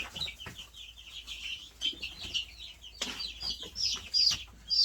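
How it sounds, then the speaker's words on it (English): Young chicken chicks, growing in size, cluck and peep in a quick, busy chorus close by, with one bird squawking and fussing as it is picked up and held. "I'm going to grab one of these chicks here just so you can kind of see."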